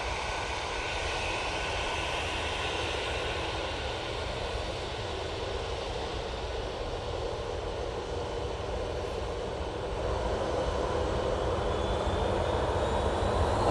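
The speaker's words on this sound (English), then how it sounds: "EasyJet coming on right in front of me." An EasyJet airliner coming in to land close by, its engines a steady broad roar that holds for the whole stretch and swells slightly toward the end, with no talk over it.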